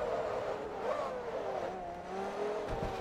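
Lamborghini Huracan V10 engine in the racing game Forza Motorsport 3, a steady sustained drone with rising and falling revs as the car accelerates, loud and continuous with no talk.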